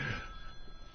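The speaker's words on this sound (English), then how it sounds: "Oh, what's that? That's your phone? That's yours?" A mobile phone rings briefly in a studio during a radio show, a steady electronic ringtone heard close and clear with a faint hum beneath.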